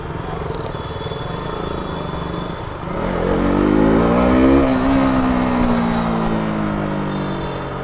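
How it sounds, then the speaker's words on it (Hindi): Heavy road traffic near the Alambagh bus stand under a metro line, with a steady wash of engine noise that swells as a loud vehicle revs and passes close by midway, then settles back to a continuous roar. "भाई ट्रैफिक देखो यार कितना लग गया है"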